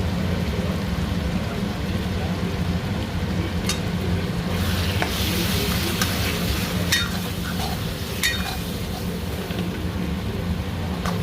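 Cumin, coriander powder, chili powder and tomato masala frying for a fish egg curry, a close, continuous sizzle with repeated spoon scrapes and clacks against the pan.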